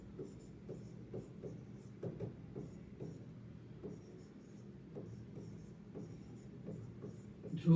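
Chalk or marker scratching across a board during a maths lesson on factorising polynomials, a soft steady run of short strokes at a quiet level, with no one talking.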